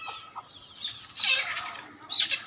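Chickens and a rooster at a garden-house poultry farm near Dhaka give close, scratchy clucks and squawks in short bursts, with a louder flurry in the middle and another near the end.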